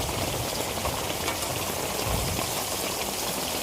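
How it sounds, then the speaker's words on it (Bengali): Clay stove fire burning fiercely, a steady dense crackling roar with a continuous broadband hiss and no pauses, close and moderately loud throughout, no voices. "এখন উনুন জ্বলছে, দাউ দাউ করে"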